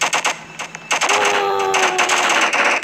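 Rapid gunfire from a video game shooting range, dense bursts of shots filling the clip with a brief lull near the start, loud and close.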